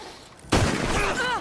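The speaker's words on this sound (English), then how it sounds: "You shot me." A single sharp gunshot crack from the video game Red Dead Redemption 2, loud and close, followed by a brief ringing tail and a faint voice underneath.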